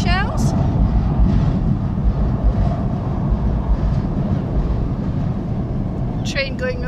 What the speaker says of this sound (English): train going over the top of us